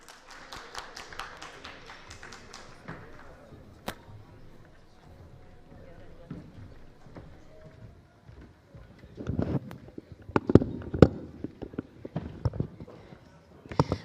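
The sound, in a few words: loud audience applause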